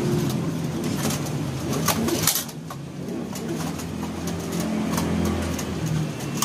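Pigeons coo repeatedly at close range, soft rhythmic calls over a busy background with a passing engine.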